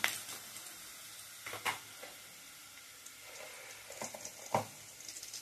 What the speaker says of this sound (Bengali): এটা আমি হালকাভাবে ভেজে নেব আদাটাকে